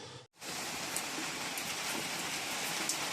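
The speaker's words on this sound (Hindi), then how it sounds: "बारिश होने लगी है झमझमा के" Heavy rain pours down in a dense, continuous roar of hiss that starts abruptly after a brief silence and stays loud throughout.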